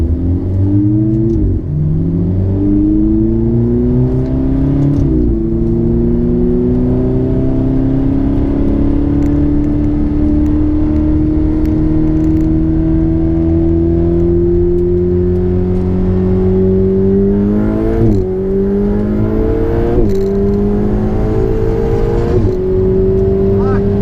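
A Ferrari 488 accelerates hard in a street race against a Supra, its engine loud and close, rising steadily in pitch through each gear with abrupt drops at the shifts.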